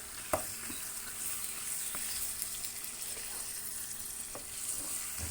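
Chicken added to browned sautéed onions frying in a pan for pepper chicken, with a continuous close hiss and sizzle and a few sharp clacks and scrapes of stirring.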